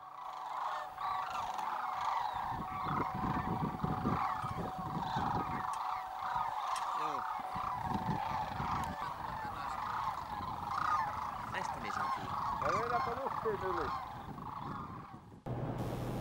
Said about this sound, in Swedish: Det är tranorna som varje höst förflyttar sig söderut för vintern.